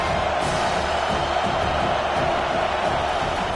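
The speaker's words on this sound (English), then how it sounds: "Decibels rising as the crowd gets behind this defense on 3rd down." A stadium crowd at an Auburn college football game roars steadily on a third-down defensive stand, a dense, sustained wash of cheering heard from within the stands.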